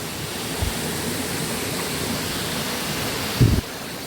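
A small forest stream flows in a steady, broadband rush that stays level throughout, with a couple of brief low thumps near the start and end.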